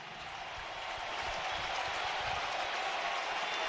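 Large baseball stadium crowd roaring steadily during a full-count at-bat, a dense, sustained wash of cheering and scattered clapping that swells slightly, with no talk over it.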